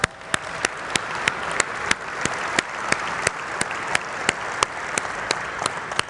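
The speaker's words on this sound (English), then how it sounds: "All right, I think Tim and Kelsey deserve another round of applause." Audience applause fills the main stage hall at Autodesk University 2017, a steady dense wash of many hands clapping with sharp louder claps standing out, sustained throughout with no voices over it.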